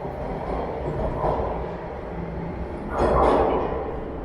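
Rumbling ambience in Toronto's Museum subway station, a train moving along the platform with a steady low roar that swells briefly near the end.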